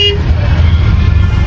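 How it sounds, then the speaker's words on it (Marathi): Road traffic jam on the way to a resort, with a steady low rumble of idling vehicles and a short honk near the start, loud and continuous. "जाम ट्रॅफिक लागली इथं"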